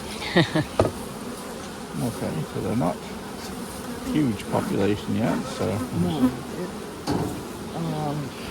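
Honey bees buzzing around a hive entrance during an inspection, several close passes rising and falling in pitch around the listener, with someone talking intermittently.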